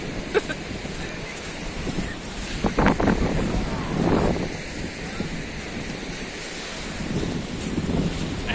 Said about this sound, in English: It's suddenly got windy now.